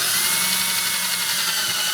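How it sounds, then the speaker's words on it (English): A power drill bores a pilot hole into wood while building a beginner's step stool, giving a steady, close, continuous high-pitched whine that holds level for the whole stretch with no talk. "just drill till the bit catches"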